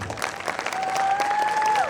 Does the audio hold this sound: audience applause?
yes